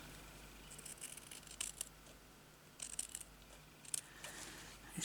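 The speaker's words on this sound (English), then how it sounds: "I'm going to cut this white bit off." Scissors trim a white strip of paper for a journal pocket, a few faint, crisp snips spaced apart over quiet room hiss.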